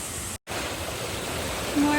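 A hidden waterfall in Niigata roars as a steady, broadband wash of falling water, loud and close, with a brief gap near the start.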